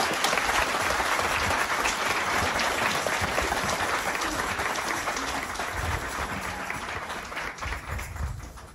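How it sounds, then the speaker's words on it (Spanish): Parishioners at a patron saint festival for the Virgin of Fatima give a bishop and two priests hearty applause, loud sustained clapping that gradually thins and fades toward the end. "Un fuerte aplauso"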